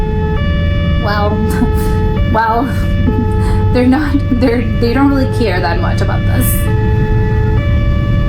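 An ambulance siren wails its rising and falling tones in Polish traffic while someone talks over it close to the microphone.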